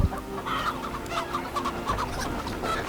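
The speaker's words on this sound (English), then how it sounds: "What are you doing with them chickens?" Chickens cluck repeatedly in Assassin's Creed Valhalla, a busy, steady run of overlapping hen calls close by with no speech.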